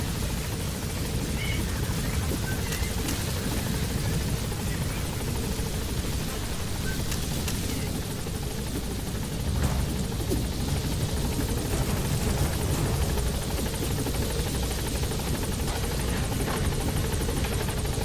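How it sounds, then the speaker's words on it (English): A video game support helicopter's rotor thumps and engine roar fill the scene continuously, loud and close, with a steady chopping rhythm. "Support helicopter has arrived."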